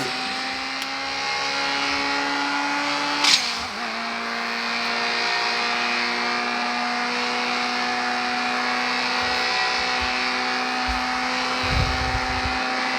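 Volkswagen Golf engine revving in the CSR Racing 2 mobile racing game, a sustained loud droning whine held at steady pitch, with a brief click early on and a low thump near the end.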